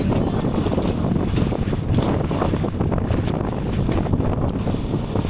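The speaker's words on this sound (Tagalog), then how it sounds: "Lakas ang hangin." Strong wind roars continuously and loudly across an open sea around a fishing boat, a dense, buffeting rush with water sounds beneath and no talk.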